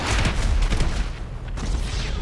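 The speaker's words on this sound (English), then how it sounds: "No, I didn't mean to pull out a shotgun." Rapid, dense blasts of shotgun fire in GTA 5 Online, loud and close, overlapping into a continuous burst of gunfire.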